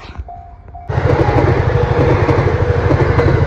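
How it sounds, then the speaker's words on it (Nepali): A train at a railway crossing in Japan suddenly roars past very close and loud, with a steady rumble and a rhythmic wheel clatter after a short, quieter lead-in. "यो ट्रेन गयो, अब यो खोल्छ"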